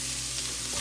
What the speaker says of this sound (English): We're gonna stir this together.